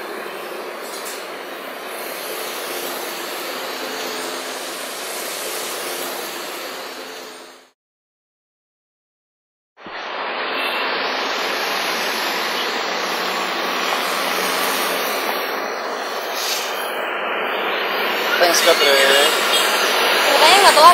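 Steady rumbling roar of a moving train, broken by a short silent gap before resuming, with rattling that grows slightly louder near the end.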